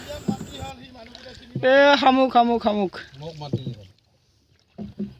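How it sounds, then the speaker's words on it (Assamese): A boat moves across the water on a ride out to an island within an eco park in Assam, its soft wash mostly buried beneath steady, close conversation. "নাৱত উঠি এতিয়া যাই আছোঁ"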